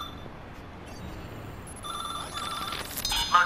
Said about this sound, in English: this phone rings out of nowhere